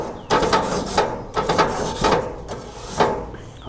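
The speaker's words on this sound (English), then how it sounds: "So I'm scraping it off right now. Make sure your grill grates are nice and clean." A metal scraper drags residue off grill grates outdoors in several hard, rasping strokes, bunched into bursts with short pauses between them, loud and close.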